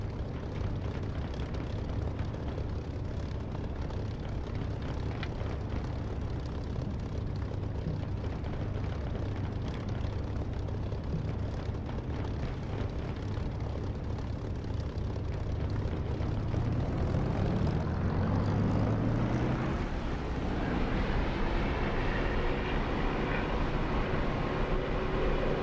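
A piston-engined warplane taxis in a flight-simulator game with World War II fighters, its engine giving a steady, close, rumbling drone that swells and rises in pitch briefly near the end.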